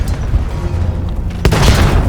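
A dynamite explosion in the video game Battlefield V, a loud low boom bursting in over a rumbling battlefield background, heavy and close.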